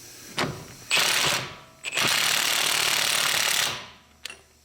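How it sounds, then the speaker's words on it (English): A 3/4 inch impact gun hammers a Jeep Gladiator pinion nut down to crush the sleeve, close loud rattling bursts: two short hits, then a long sustained run, and a brief final tap. "I also have a 3/4 inch impact gun that we can use to tighten this down and crush the sleeve."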